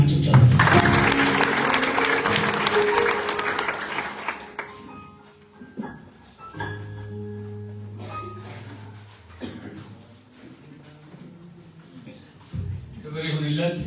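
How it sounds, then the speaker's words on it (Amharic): A church congregation at an Ethiopian Christian conference applauds and ululates in a loud, dense burst for about four seconds, then fades into quieter scattered sounds with a voice and music underneath. "እልልታና ጭብጨባ።"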